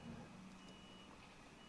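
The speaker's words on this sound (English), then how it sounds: "oh, it's a truck backing up" A truck backs up outside with a faint, steady reversing beep, heard far off and quiet against a low background hum.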